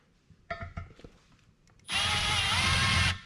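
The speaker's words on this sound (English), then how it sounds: "we're gonna drill it out" A few clanks and handling knocks, then a power drill starts up and drills into a metal LS7 intake manifold, whining steadily and loudly for over a second before stopping.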